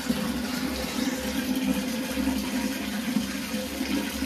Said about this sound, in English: I'm going to give it a flush, make sure she's all good.